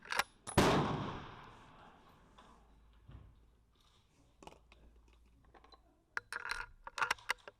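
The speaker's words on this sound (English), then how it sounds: "I love that sound of the ammo going, into the action, getting pushed forward and ready to be shot." A rifle round is pushed forward into the action, a loud close metallic clack followed by quieter clicks and a few sharp mechanical ticks near the end.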